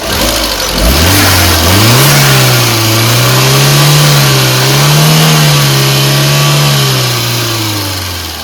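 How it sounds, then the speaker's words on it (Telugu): A 2015 Tata Zest XMS petrol car engine revs hard as the accelerator is pressed, rising from idle into a loud, sustained roar that holds, wavers slightly, then eases back down near the end, with no voices. "ఎక్సలరేటర్ ఇప్పిద్దాం, బ్యాక్ కంప్రెషర్ అయితే చెక్ చేద్దాం"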